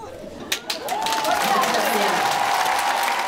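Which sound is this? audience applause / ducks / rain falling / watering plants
audience applause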